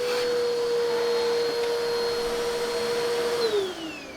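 A Bissell CleanView Swivel Pet baggless upright vacuum cleaner runs with a loud, steady motor whine that holds close and constant, then its pitch slides downward near the end as the motor begins to wind down.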